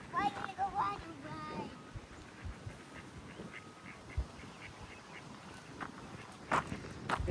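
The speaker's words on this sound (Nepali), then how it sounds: "किरा होइन हौ जङ्गली हाँस हो" Wild ducks in a park give a burst of nasal quacks near the start, then fainter scattered calls and footsteps outdoors while people talk nearby.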